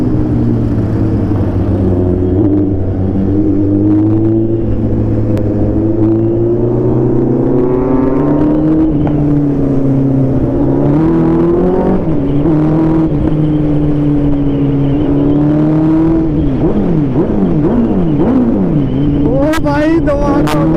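A KTM 390 or Hayabusa motorcycle ridden fast on the road gives a loud, continuous engine and exhaust drone that rises and falls with throttle changes and shifts, with wind rush and a rapid rev burst near the end.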